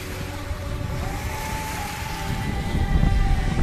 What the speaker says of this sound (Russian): Слышишь? Волны бьют.